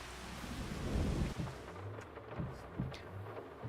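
Rain falls steadily in the Farming Simulator 25 game world, a broad continuous hiss with low rumbling swells, as though thunder or wind, and a few brief thuds near the end.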